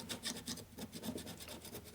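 Scraper rasping old gasket material off a 1984 Harley-Davidson Shovelhead four-speed transmission case, a steady series of close, rough strokes repeating several times a second.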